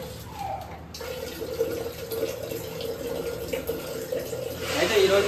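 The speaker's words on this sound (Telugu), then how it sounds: "దాన్ని ఇప్పుడు నీళ్ళు పోతాం." Water runs and splashes steadily over a whole chicken in a sink or pot, a continuous close pouring that grows louder toward the end, with faint background voices.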